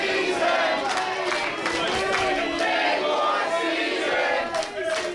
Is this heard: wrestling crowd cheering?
yes